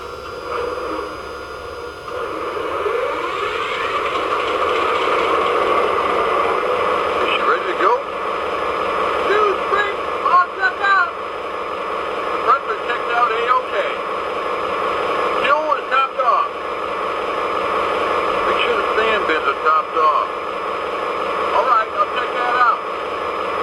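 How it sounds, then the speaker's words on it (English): An MTH Pan Am Railways GP-40 model diesel locomotive starts up, a steady electronic engine rumble with a droning hum that settles into idle, heard alongside someone talking throughout. "now let's go ahead and start the engine up"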